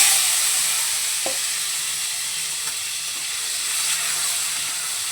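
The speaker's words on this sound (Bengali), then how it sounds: "আলুগুলোকে একটু লাল করে ভেজে নেব" Cut potatoes frying in hot oil after a cumin tempering, producing a steady bright sizzle and hiss close by, with a few faint knocks of a spatula, no voices.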